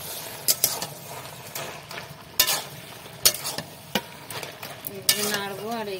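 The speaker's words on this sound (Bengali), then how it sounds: "একটু নাড়বো আর এইটা এইভাবে খুঁজে দিয়ে একটু ঘেঁটে দেবো।" A spatula stirs Bengali vegetarian ghet curry in a frying pan over a soft sizzle, with repeated scraping strokes and clinks against the pan close by.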